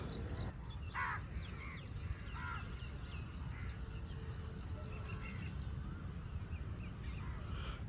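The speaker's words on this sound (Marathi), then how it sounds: "पक्षी बघा, पक्षी, कबूतर." Crows caw repeatedly over a farm field, several harsh calls at intervals, some close and some farther off, above a steady outdoor background hiss.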